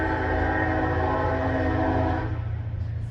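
A train rolls past close by, its long horn blast sounding loud and steady for about two seconds before cutting off, leaving the rumble of the passing cars.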